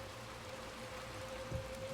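Rain in Little Nightmares 2 falls as a steady, soft hiss that stays faint and even throughout, with a low hum beneath it and one small muffled thud near the end.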